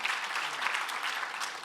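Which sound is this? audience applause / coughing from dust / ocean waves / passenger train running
audience applause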